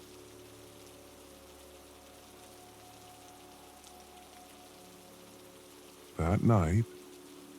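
Soft rain falls on a roof as a faint, steady hiss, with a brief spoken voice near the end.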